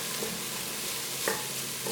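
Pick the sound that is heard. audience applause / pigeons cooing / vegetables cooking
vegetables cooking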